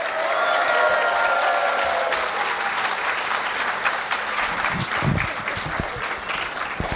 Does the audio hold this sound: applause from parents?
yes